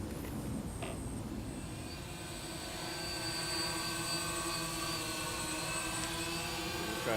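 A DJI Phantom drone hovers and flies outdoors, its steady, continuous rotor whine and buzz holding at an even level throughout, slightly louder in the second half, with no talk.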